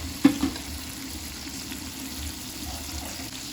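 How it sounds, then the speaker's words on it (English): A tablespoon of butter melts in a pan for butter garlic prawns, making a faint, soft sizzle that runs steadily after a couple of brief knocks near the start, with no voices. "Be generous and here let the butter melt."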